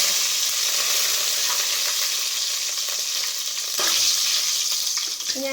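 Curry leaves go into hot oil already holding mustard seeds and dried chillies for a Kerala-style roasted beef curry, a loud, dense crackle and sizzle that flares briefly midway, close with no voices.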